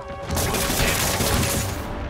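Explosion during combat in the video game Marvel's Spider-Man, a loud, sustained crashing roar lasting about two seconds with debris-like noise, alone without talk.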